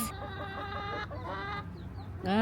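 Close, loud chicken clucking in a steady run of short throaty calls, ending in a sharper, rising squawk.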